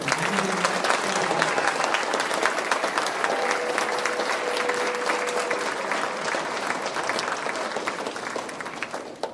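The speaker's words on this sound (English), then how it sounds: "Ladies and gentlemen, a round of applause for all of" Sustained applause from an audience at a high school senior awards ceremony, a dense steady wash of clapping that fills the room and tapers slightly toward the end.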